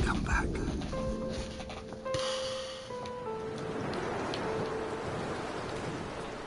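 Steady rain falls outside, heard from indoors near a curtain as a soft, continuous hiss with faint tones and murmurs over it.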